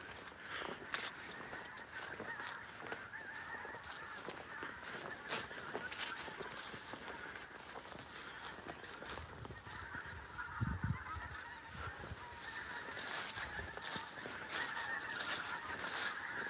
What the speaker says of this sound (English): You hear geese.